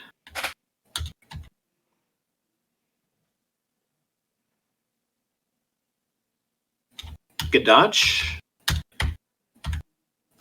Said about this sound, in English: your mouse clicks are really weird